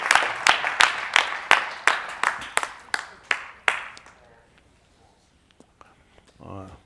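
Church congregation clapping hands together in a steady, fairly even rhythm, about a dozen sharp claps that fade out, followed by quieter room noise and a brief murmur.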